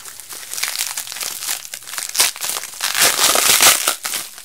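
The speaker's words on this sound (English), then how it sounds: "Oh, we're gonna hear sticky bubble wrap again." Sticky bubble wrap is peeled and pulled off beauty products from a haul package, giving loud, continuous crackling and crinkling with rapid tearing pops close by. No voices are present.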